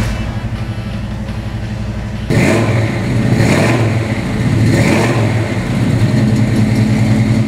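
A small block Chevy V8 in a 1969 Chevrolet Camaro SS idles with a lumpy, throaty rumble, then roars into a series of loud revs that rise and fall several times.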